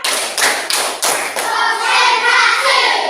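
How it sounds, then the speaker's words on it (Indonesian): A class of pupils claps a steady rhythmic pattern of about five loud unison claps, followed by children's voices chanting together. "Kita tepuk-tepuk dulu biar tidak ngantuk ya."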